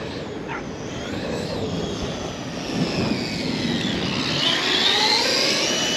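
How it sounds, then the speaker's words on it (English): A Traxxas X-Maxx RC truck gives off a loud, steady whine of gear noise that rises slightly in pitch over a continuous motor roar, sustained throughout with no voices. "Xmaxx makes a lot of gear noise."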